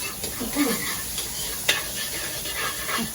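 Onions sizzle as they fry in a hot pan, a soft continuous hiss broken by a few stirring scrapes and clinks.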